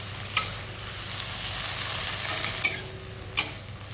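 Okra frying with onions in a pan sizzles steadily at low level, with a few sharp scrapes of a spatula or spoon stirring against the metal.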